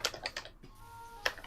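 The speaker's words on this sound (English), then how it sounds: "I'm typing in his chat" Keys on a computer keyboard clack in a quick, uneven burst of taps, then pause before one last keystroke, fairly close, with a faint tone humming underneath.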